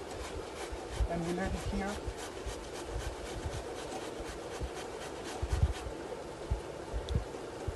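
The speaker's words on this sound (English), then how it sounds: "we grate the cucumber in the fat size of grater" Cucumber being rubbed on the large-hole side of a grater for tzatziki, a soft, steady rasping scrape in a kitchen, with a voice talking over it.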